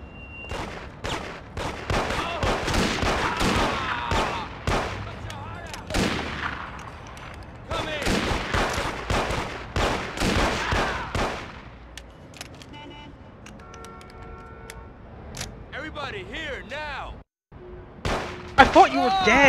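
Gunfire from a sniper in the video game Mafia, with repeated sharp cracks in clusters over a noisy battle bed, then a quieter stretch with a few scattered shots near the end.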